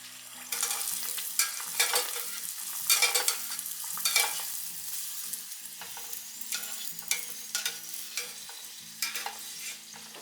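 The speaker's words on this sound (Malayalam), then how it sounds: "നല്ലപോലെ ചൂടായി വരുന്ന സമയത്ത് നമുക്ക് വട ഓരോന്നായിട്ട് ഇട്ട് കൊടുക്കാം" Banana vada fry in hot oil with a steady, moderate sizzle, broken by occasional sharp clicks and scrapes from stirring. No voices are heard.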